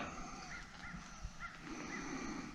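Crows caw in a few short bursts at a distance down from a plateau, faint over a quiet outdoor background with no talking.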